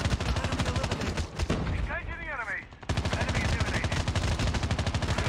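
AKS rifle firing in Call of Duty Mobile, rapid automatic bursts of loud, evenly spaced shots with a short pause in the middle, close and dominant, with a brief voice over the gap.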